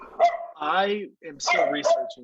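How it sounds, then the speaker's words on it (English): A dog barks in several short bursts behind someone speaking on a video call, the barks fairly close and loud enough to break through his talking. "Sorry about the dog."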